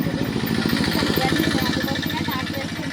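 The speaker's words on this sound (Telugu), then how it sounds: "ఇదిగో మేమైతే ట్రాక్టర్ వేసుకొని పోతున్నాం" A tractor engine chugs close and steady in a rapid, even firing rhythm while riding out to a farm field loaded with fertilizer sacks.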